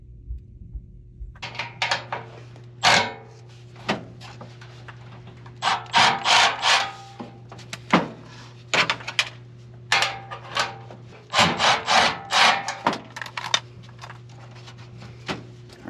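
Screws are worked out of a blower wheel housing with a tool, giving close, intermittent scraping and rasping bursts over a steady low mechanical hum, without talk.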